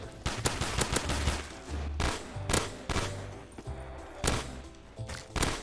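A B23R pistol fires in a zombies map of a parkour wipeout video game. Sharp shots come in quick bursts and single cracks, close and punchy, over a low game background.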